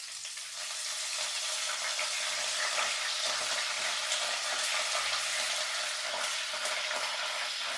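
Curry leaves frying in hot oil while cooking a Malayalam fish curry, a steady loud crackling sizzle that runs unbroken through the whole stretch with no talking.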